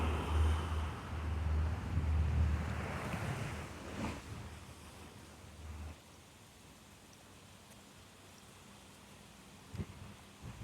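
Ocean surf washes in on a beach in St. Lucia with a broad roar, loudest early then easing to a softer steady wash, with some wind noise on the microphone.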